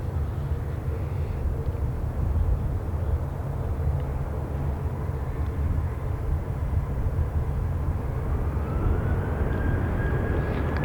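A Southwest airliner takes off from a runway in high winds, a loud steady jet roar with broad rumble throughout, an engine tone rising toward the end as it climbs away, with no voices.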